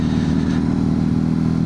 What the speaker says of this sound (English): see how loud the exhaust actually sounds